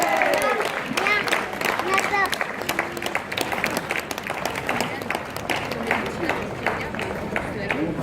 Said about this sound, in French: Je vous demande d'applaudir le pays de Vannes.